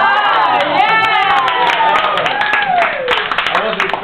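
A crowd applauds and cheers with loud clapping and excited shouts, voices rising and falling over the noise for several seconds.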